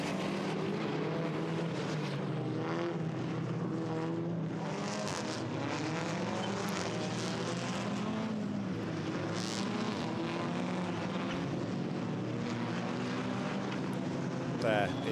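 SEAT Leon Eurocup race cars lapping the Nürburgring in 2015, engines droning and rising and falling in pitch as they pass, a constant loud roar under steady commentator speech.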